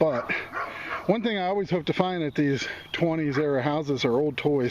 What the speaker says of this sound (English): Well, you have to pardon the dog next door.